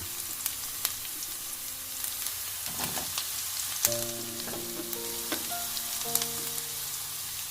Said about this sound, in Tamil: இப்போ கட் பண்ணி வச்சுருக்கிற கோவக்காயெல்லாம் கடாயில் போட்டாச்சுது. இதை நல்லா கிண்டி விடணும்.